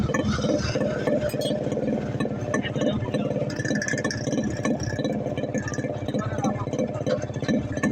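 A Yamaha RX100 motorcycle with an altered exhaust pipe idles with a steady, rattly two-stroke burble, close and continuous, while someone talks over it.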